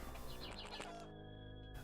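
Chickens clucking in the video game A Wizard's Lizard: Soul Thief, a short burst of chirpy bird calls heard over steady game music, with no talking.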